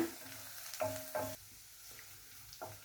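Ginger and shallots frying in a pan over a low flame, a soft steady sizzle broken by a few louder stirring scrapes and clinks, close and quiet without speech.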